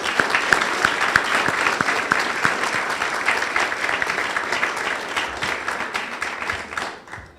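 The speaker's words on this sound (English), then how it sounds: "give another round of applause to our students" An audience at a UnidosNow Future Leaders Academy event applauds its senior students, with sharp individual claps standing out from a sustained dense round that fades at the very end.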